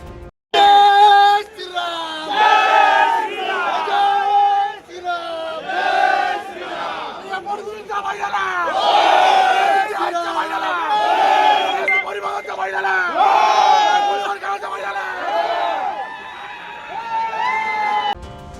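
A crowd of BJP supporters in Nashik celebrating Seema Hiray's win, loudly and rhythmically chanting Jai Shri Ram in unison, with repeated call-and-response shouts and cheering that carry on for the whole stretch.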